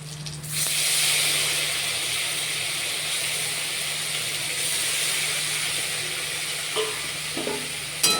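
Drained chhana sizzling in hot ghee in a pan, a steady frying hiss with the soft scrape of stirring running throughout, close and fairly loud, with a few light knocks near the end.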